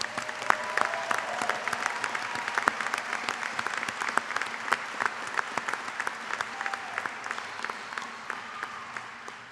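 Sustained applause from a large commencement audience honoring newly certified graduates: dense, steady clapping with sharp individual claps standing out, fading slightly toward the end.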